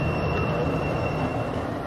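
A tram rolls along its rails with a steady, continuous rumble and a faint high ringing whine, close and unbroken with no voices.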